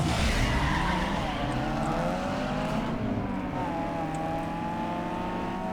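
Tires skid and squeal continuously as a car drifts in Need for Speed Underground 2, with a loud, steady engine drone and rising screech held throughout, close and unbroken.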